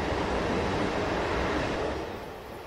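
In a train simulator game, a train rushes through a station, a loud, steady rumbling roar that fills the sound before easing off slightly toward the end.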